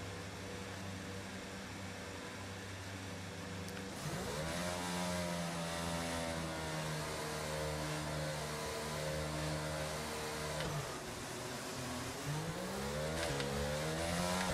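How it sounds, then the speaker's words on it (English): Formula 1 cars launch off the starting grid at the Brazilian Grand Prix in the F1 22 racing game, a low idle giving way to a roaring chorus of engines climbing steeply through the gears, then dipping and rising again. "Excellent start. Really good traction off the line."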